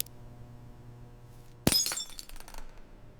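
A dehydrated scorpion crisp snaps with a sharp, glassy crack midway through a quiet stretch, followed by a short spray of brittle tinkling fragments.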